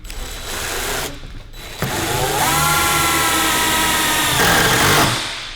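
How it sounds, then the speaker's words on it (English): A power driver sinking hex head self-tapping screws into vinyl, a loud close whirring motor run that starts briefly, pauses, then holds steady for several seconds before winding down. "I like to clamp it where I'm going to screw it, so I'll do these two end holes first"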